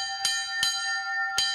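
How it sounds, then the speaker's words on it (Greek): A monastery church bell rung before vespers strikes three times, clear ringing tones with a sustained hum between strokes, close and alone. "χτυπάει την καμπάνα"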